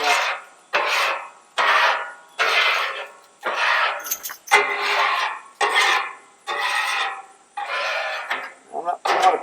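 Metal scraper dragged across a Blackstone griddle surface in about ten short, rasping strokes, each a loud gritty scrape with brief gaps, close and alone.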